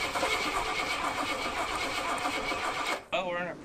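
An old Jeep J20 with a 360 V8, Holley carburetor and aluminum intake cranks, then roars steadily and loudly at close range, cutting out briefly before catching again.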